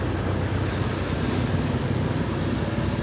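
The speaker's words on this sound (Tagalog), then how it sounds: "Grabe ang hangin ganiya." Strong wind blows around an old house in Cagayan de Oro, making a constant, dense rushing roar with faint gusting buffets at the microphone. Nobody speaks.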